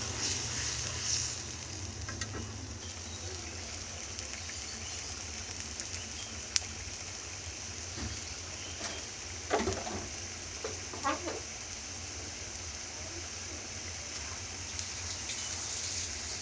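Spice masala for a chickpea curry being fried in a pan, a low continuous sizzle with occasional light clinks and scrapes, steady and fairly quiet throughout with no speech.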